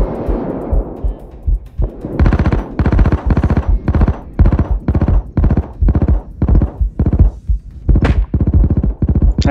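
Rapid bursts of automatic gunfire in the Payday 2 video game, a steady run of about a dozen loud, evenly spaced shots with a brief rising tone near the end.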